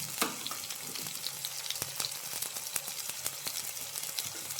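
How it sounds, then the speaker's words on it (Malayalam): Crushed shallots, garlic and a small piece of ginger frying in a pan, a steady crackling sizzle with sharp pops and spatters, close and fairly quiet, with no talk. "ഒരു 2-3 വെളുത്തുള്ളി ചതച്ചത്, ഒരു ചെറിയ കഷ്ണം ഇഞ്ചി, ഇത്രയും സാധനങ്ങൾ ചട്ടിയിലേക്ക് ഇടുന്നു"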